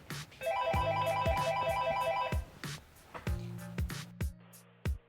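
An electronic phone ringtone trills in a repeating melodic pattern in a Hindi film scene while sharp percussive hits punctuate it, then the ringing stops and the beats continue.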